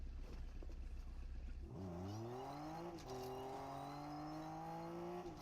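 A video game car engine revs up from a low rumble into a rising, whining drone that climbs and holds through several gear-like steps, loud and close with no talking.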